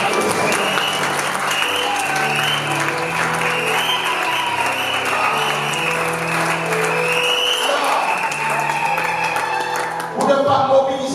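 Sustained applause and clapping from guests at a civil wedding ceremony, a steady dense patter that fills the room, with music-like tones underneath.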